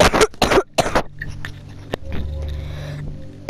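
A person in a Minecraft minigame session coughs three times in quick succession, loud and close, followed by quiet room noise and a faint click.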